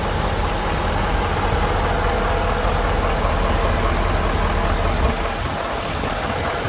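A 2011 Ford F550 4x4 Altec truck with a 6.7 liter engine idles with the hood open, a steady, loud, close low rumble that holds even throughout with a slight dip near the end.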